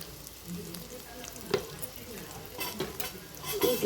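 A spoon scrapes and stirs salt, chilli powder and turmeric into food frying softly in a pan, with quiet sizzling and a few sharper clinks against the metal.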